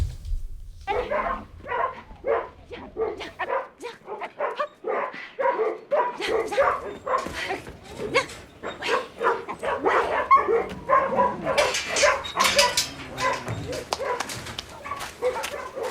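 A dog in a film scene barks, yips and whimpers repeatedly in quick bursts, loud and close, with scattered background sounds throughout.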